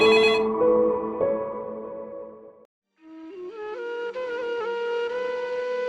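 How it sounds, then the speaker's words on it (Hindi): A phone rings with a bright melodic ringtone: one chiming phrase, a brief silence, then the tune starts again and continues steadily. "तभी मेरा फोन बजने लगता है"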